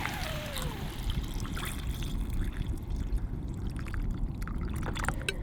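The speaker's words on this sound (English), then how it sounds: "Fill it up with water." Water pours steadily into a cooking pot holding potatoes and carrots at a forest campsite, a continuous splashing trickle close by, with faint clinks near the end.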